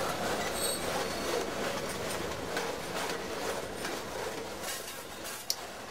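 A locomotive rolls along the track nearby with a steady rumbling wheel noise and faint rail clatter, a sharp click near the end.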